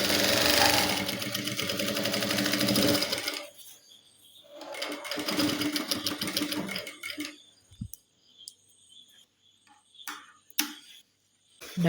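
A sewing machine stitches a girls' uniform pant in several bursts of rapid rhythmic needle chatter, loud at first, then shorter runs separated by quiet pauses and light handling clicks.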